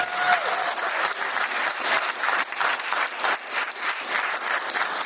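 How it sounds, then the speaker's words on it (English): An audience at a political candidate forum claps steadily and loudly, a sustained round of applause with no talking over it. "How about a big round of applause for these people?"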